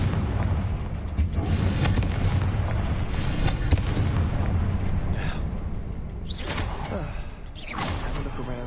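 Fiery blasting spell explosions in Hogwarts Legacy, a steady rumbling roar with whooshing bursts of magic cutting through, loud and close with no talking.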